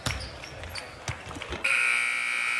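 Ball bounces and arena noise at an NBA game against the Sacramento Kings give way to a loud, sustained electronic buzzer that sounds and holds until the end.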